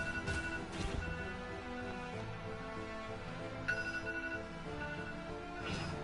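A cell phone's ringtone chimes repeatedly in the background of a Jak 3 gameplay session, faint, steady and looping over the game's music and ambience.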